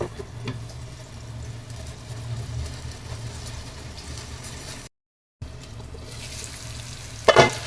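Raw banana slices fry in a pan over medium heat, a steady soft sizzle running throughout with a brief pause and a louder stir or scrape near the end.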